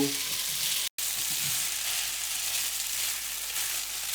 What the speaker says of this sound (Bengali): ইউ সি ফ্রাই হচ্ছে পাস্তাটা।